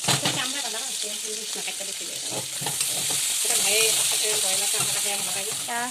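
Loud, close sizzling of meat fat frying in a pan, a constant crackling hiss with voices talking over it.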